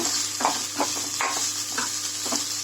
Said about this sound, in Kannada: ಬೆಳ್ಳುಳ್ಳಿ ಚೆನ್ನಾಗಿ ಹುರ್ಕೊಳ್ಬೇಕು